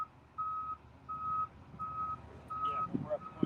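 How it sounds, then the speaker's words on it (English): A rail track inspection truck by Sandusky Bay gives four evenly spaced, steady electronic beeps, each about half a second long, clear over outdoor background noise, with a faint voice and some knocking near the end. "We usually see one of those driving by and we'll hear a beep."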